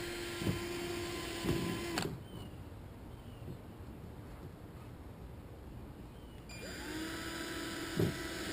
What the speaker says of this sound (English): I'll be drilling around it